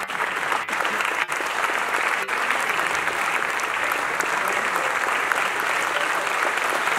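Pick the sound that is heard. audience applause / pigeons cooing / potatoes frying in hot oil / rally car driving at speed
audience applause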